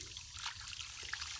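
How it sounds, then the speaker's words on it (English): A working water ram pump runs in a stream for irrigation, giving a steady close trickling and splashing of flowing water with faint soft knocks, no voices. "here again is the working ram pump"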